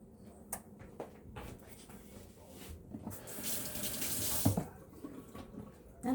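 A kitchen tap runs during handwashing, a soft splashing stream that swells loudest near the middle, with faint clatter and brief voice at the edges.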